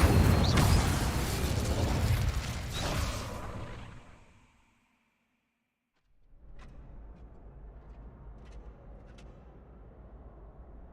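An Incendio fire spell in Hogwarts Legacy erupts in a loud fiery burst and whoosh that lasts a few seconds, then fades into silence before quiet game ambience returns with a few faint clicks.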